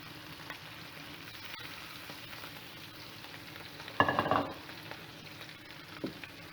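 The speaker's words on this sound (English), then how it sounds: "Put these in the pan and get them going." Parboiled Brussels sprouts and bacon sizzle steadily in a pan. A burst of louder crackling comes partway through as they are stirred, then settles back into a low, even fry.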